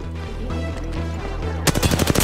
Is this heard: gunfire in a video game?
yes